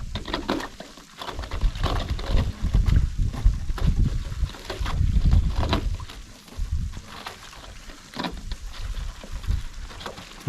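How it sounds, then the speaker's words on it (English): Slush ice chunks knock and thud irregularly against a boat hull, loud and close, rising and falling over a steady rumble of water and motor. "I can hear it hitting the boat now."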